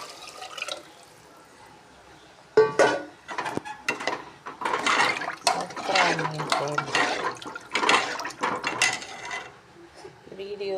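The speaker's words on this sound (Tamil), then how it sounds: "இந்த புளி கரைச்சல் மிளகாத்தூள் எல்லாத்தையும் இதில் ஊற்றிடுங்க" Tamarind water and chili powder pour into a pan with wet splashing and clattering bursts, preceded by a quieter stretch and followed by scattered drips and kitchen clinks, with a voice speaking over much of it.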